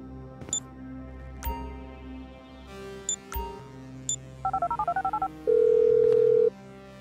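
A phone is dialed in the video game GTA V: a few scattered clicks and beeps, then a quick string of keypad tones and a sustained dial tone near the end, with no voices.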